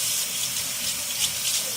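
Tap water runs steadily into a kitchen sink to wet a microwave's glass turntable plate, a constant close hiss with no voices.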